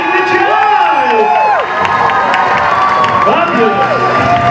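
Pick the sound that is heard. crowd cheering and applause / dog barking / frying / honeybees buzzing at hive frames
crowd cheering and applause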